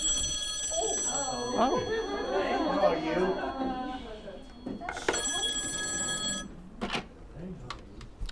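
A phone rings with a repeating electronic tone over people chatting in a room during a fraud-awareness presentation, then a short burst sounds again near the end.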